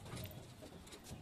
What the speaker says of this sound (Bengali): দেখুন উড়ান প্রচুর কবুতর